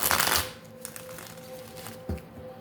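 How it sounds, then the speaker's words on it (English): Tarot cards shuffled by hand close up in a quiet room, a short riffling burst followed by softer sliding and a second brief flick. "Let's shuffle."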